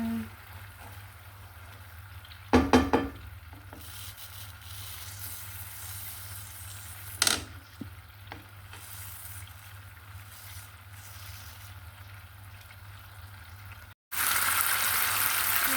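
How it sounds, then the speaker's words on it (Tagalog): A quiet, steady bubbling simmer of coconut cream in a pan fills the background, broken by a few brief clatters. "kumukulo na siya."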